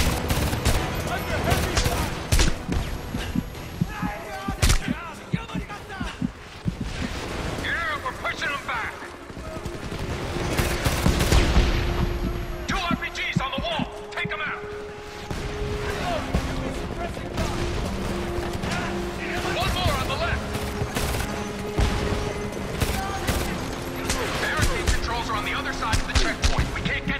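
Gunfire in the shooter game Homefront: bursts of automatic weapons and scattered shots crack repeatedly over a long stretch, with explosions and crashes mixed in and a voice talking over the chaos.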